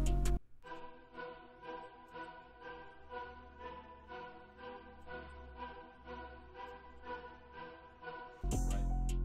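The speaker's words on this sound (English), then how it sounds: "but yeah, we got a choir from Nexus." Sampled epic choir from a Nexus virtual instrument voicing sustained chords inside a trap beat, pulsing gently under a low bass for several seconds, with a sharp burst of louder noise cutting in at the start and end.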